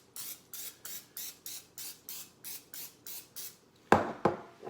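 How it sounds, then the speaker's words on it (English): Non-stick cooking spray is misted into ceramic muffin pan cups in about a dozen short, even hissing bursts, each roughly a third of a second long. Two sharper, louder knocks follow near the end. "I just spray each cup with a little non-stick spray."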